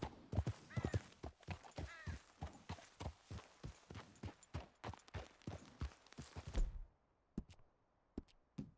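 Horse hooves in the video game Red Dead Redemption II, a steady, close clip-clop of hoofbeats that stops abruptly, leaving a few scattered taps afterward.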